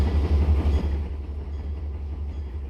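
An old Seaboard System locomotive rolls past in the Trainz simulator, a loud low rumble with rail clatter that fades steadily as the train moves away.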